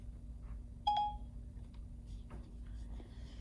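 A single short electronic tone plays from an iPhone as Siri activates, a clear beep over a low steady hum, with faint room noise after it.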